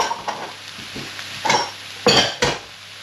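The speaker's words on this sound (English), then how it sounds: "I'm going to add our spinach, 60 grams worth of spinach in there, and I'm just going to keep stirring that round" Spinach, 60 grams, is stirred in a sizzling pan, with a spoon scraping and clinking against the metal in a few irregular strokes over soft frying.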